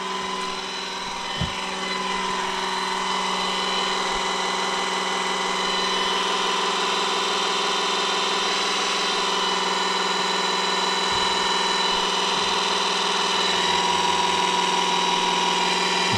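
A VEVOR hydraulic jack raising a car rated for at least three tonnes, giving a steady, continuous mechanical hum with faint tonal whine throughout, near and unbroken, with a couple of brief low knocks early and late.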